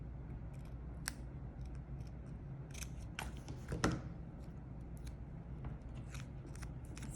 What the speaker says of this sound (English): we're gonna go ahead and cut right there